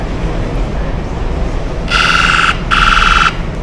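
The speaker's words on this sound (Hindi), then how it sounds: "यहाँ पे आग को सेंसर के पास लाया तो यहाँ पे एक सायरन सा बजा" A loud electronic fire alarm from a fire sensor sounds in two sharp bursts at a school science exhibition, a harsh buzzing tone with a short gap between, over steady background noise.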